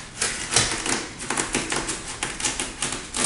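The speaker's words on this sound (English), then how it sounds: "I'm going to start right here and cut the watermelon in half." A knife cuts a watermelon in half, giving a close series of crisp crunching and cracking bursts as the blade works through the rind and flesh.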